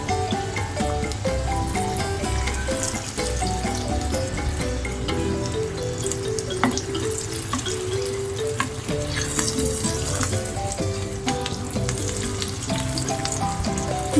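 Peas-stuffed kachori sizzle and bubble steadily in a wok of hot oil, a continuous close frying crackle with occasional stirring and no talk.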